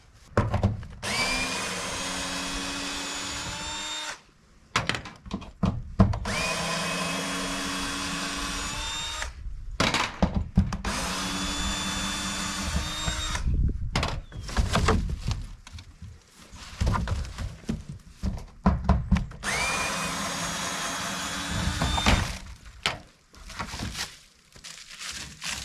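A power drill backing screws out of a tiny house being demolished, whining in long sustained runs of several seconds broken by short pauses, loud and close, with clattering and rustling between bursts.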